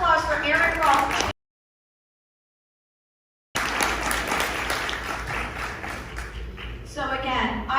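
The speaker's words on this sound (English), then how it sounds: "So please, if we can get a round of applause for Erin Grawl." Audience applause at a conference, loud and sustained, broken by a gap of silence before resuming; the applause starts and ends under a speaker's amplified voice.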